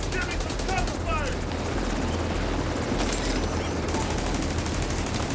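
Dense gunfire in The Division 2 during a firefight, a continuous rapid rattle of shots over low rumbling, with voices talking underneath.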